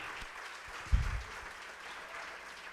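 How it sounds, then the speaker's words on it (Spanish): Church congregation claps an offering of applause to God, a brief burst of hands rising sharply then fading after about half a second, set against a quiet room hum. "Le vamos a regalar una ofrenda de palmas al Dios de la gloria."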